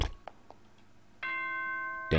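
A doorbell-style chime in the visual novel Danganronpa 2 rings as a steady sustained tone after a few faint clicks, ending with a louder burst.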